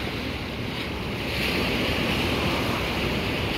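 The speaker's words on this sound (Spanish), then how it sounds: "Ahí podemos notar la fuerza que tiene ahorita la marea" Strong tidal sea surf rolls in a steady, heavy roar on a damaged stretch of shoreline, with gusting wind buffeting the microphone and swelling louder midway through.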